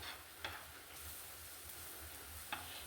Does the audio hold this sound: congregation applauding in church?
no